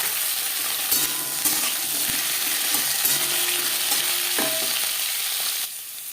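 Carrots fry in a pan of hot oil with cumin seeds and green chili, a steady close sizzle broken by a few stirring scrapes before it suddenly drops quieter near the end.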